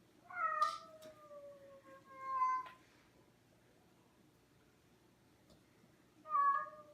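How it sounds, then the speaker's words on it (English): A house cat meows three times, two drawn-out calls close together and a shorter one after a pause, clear and near in a quiet room. "This is my cat."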